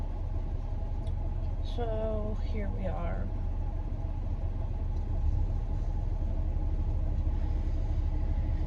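Steady low rumble from inside a parked car waiting outside a school, engine hum and road noise continuous throughout, with someone speaking briefly over it.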